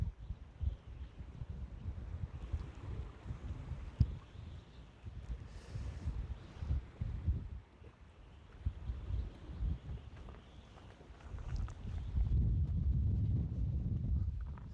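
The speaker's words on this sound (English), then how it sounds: "This wind's picking up" Wind gusting along the north east coast during a spring kelp cod fishing trip, a steady low rumble and buffeting on the microphone that swells louder toward the end, with no voices.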